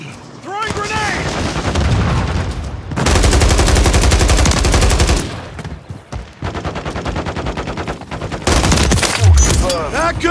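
Call of Duty gunfire crackles in rapid, loud bursts of automatic fire and heavy shots, nearly continuous with brief lulls between volleys.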